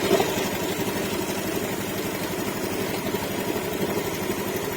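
A Honda Beat ESP motorcycle engine, with a charging-voltage drop fault and the battery disconnected, idles steadily with a low, even putter and constant rumble, close by and uninterrupted.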